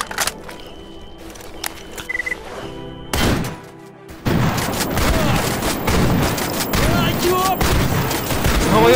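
A grenade blast followed by sustained gunfire in the video game S.T.A.L.K.E.R. GAMMA, with a heavy thump, then dense rattling shots continuing loudly under occasional voices.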